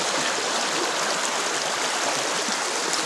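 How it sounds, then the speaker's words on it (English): A stream rushes steadily and close by as a person crosses it, a continuous loud wash of flowing water with no break. "I'm about to try to cross a stream"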